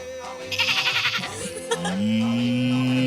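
A performer on an African talent show stage imitates a goat, giving a quick series of stuttering bleats that break into a long, sustained nasal bleat, loud and close.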